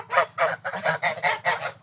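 A female Large Grey goose honks repeatedly in a quick, regular series of about seven loud, nasal calls, close by with no other sounds.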